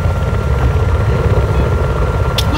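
Steady, loud rotor and turbine drone of an enemy helicopter in the video game Battlefield 4, holding constant throughout with a brief sharp click near the end.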